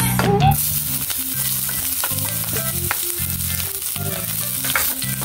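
Onion sizzles loudly in a hot pan for vegetables, a continuous crackling fry with a sharp burst at the start and rhythmic low clunks of stirring throughout.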